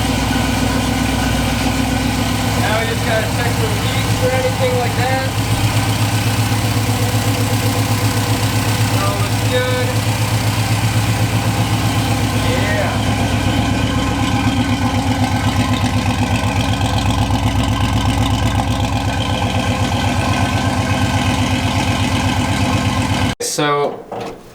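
Engine of a 1968 Chevrolet C10 pickup with Holley Sniper EFI idling steadily and loudly at close range, with a short clatter right at the end.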